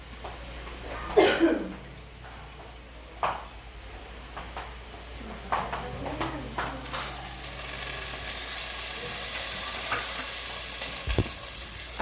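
Sautéing for chicken sinigang in a pan, with a steady sizzle that rises and thickens toward the end, broken by a few louder stirring scrapes and a cough, with no speech.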